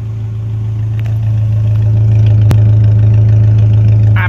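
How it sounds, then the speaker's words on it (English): Rebuilt engine of a Sunrader motorhome running steadily close up, a loud even hum that swells slightly, with a sharp click partway through. "That's the sounds of the engine after rebuild."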